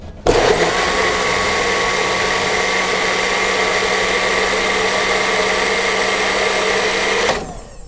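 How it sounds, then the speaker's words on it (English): A countertop blender runs on high speed, a loud steady whirring drone that starts abruptly, holds for about seven seconds and cuts off at the end, alone without speech. "Just blend it a few seconds on high speed"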